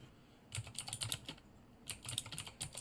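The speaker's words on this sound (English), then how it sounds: "So let's just type it in." Rapid typing on a computer keyboard, two bursts of quick, close clattering keystrokes separated by a short pause, with no voices.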